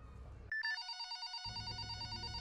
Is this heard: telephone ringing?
yes